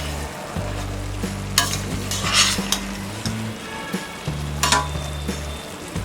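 Potato pulao being stirred in a cooking pot, a soft continuous sizzle with repeated scraping and clinks of a spoon against metal, close and steady, no talking.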